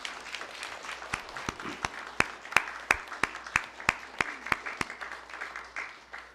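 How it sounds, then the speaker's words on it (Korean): A church congregation at a Sunday service claps in encouragement: a steady run of distinct claps with a clear, even rhythm, fairly faint and heard alone in the room. "여기 힘내시라고 격려의 박수 한번 보내주세요"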